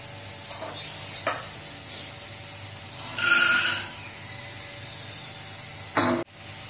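Peanuts dry-roasting in a pan, with dry rattling scrapes and intermittent clatter as they are stirred, a louder rustling burst midway and a sharp knock near the end, no talking.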